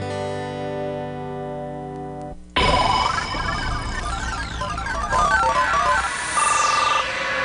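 An electronic phone ringtone on a live local radio morning show plays loudly, a repeating tone that cuts off and gives way to a busier, brighter jingle-like melody.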